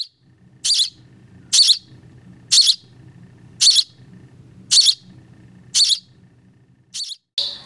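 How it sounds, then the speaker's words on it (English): A baby bird, rescued and kept in a box, gives loud, sharp peeping chirps at a steady pace of about one per second, close to the microphone, with a low hum between calls. "So we found this bird a couple of days ago."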